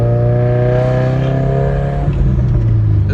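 A straight-piped 2015 Subaru WRX exhaust rumbles loud and close in a steady, deep drone with a strong low tone, easing slightly partway through, with no talking.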